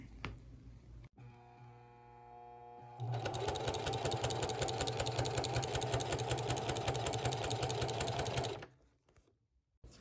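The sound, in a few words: sewing machine sewing a seam on a gaiter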